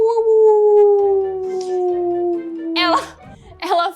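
A person imitates a wolf's howl with a long, sliding, drawn-out tone, followed by brief spoken words.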